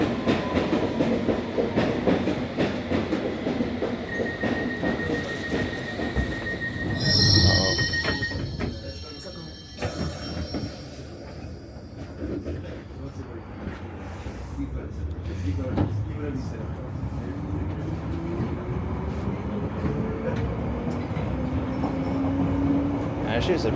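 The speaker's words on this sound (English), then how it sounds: "There's the district train." A London Underground District line train at Turnham Green station rumbles and clatters steadily past the platform, its wheels squealing briefly, with voices faintly audible beneath the noise.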